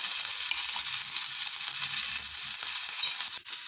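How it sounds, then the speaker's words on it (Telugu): Ginger garlic paste sizzling in hot ghee, a continuous bright crackling fry, steady and close, with no voices. "ఈ నెయ్యి వేడెక్కింది కదా, ఇందులో మనం దంచి పెట్టుకున్న అల్లం వెల్లుల్లి పేస్ట్ వేద్దాం."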